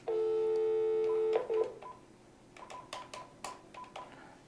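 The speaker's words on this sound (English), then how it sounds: "I'm going to dial a call, and we'll see how to deal with an inbound call." An iPhone keypad sounds a steady dual-tone beep for about a second and a half, followed by a quick run of short, faint keypad tones and clicks in a quiet room, with no one speaking.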